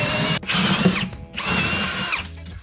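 A power drill bores a 3/4 inch hole through a wooden sill plate into a basement, whining loudly in two bursts separated by a brief pause, with the bit grinding through the wood.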